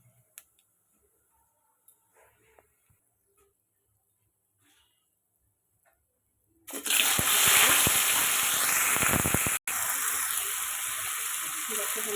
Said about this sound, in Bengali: কড়াই বসিয়ে দিয়েছি তেল দিয়ে দিয়েছি ফোড়নে দিয়ে দিব কালো জিরে আর শুকনো লঙ্কা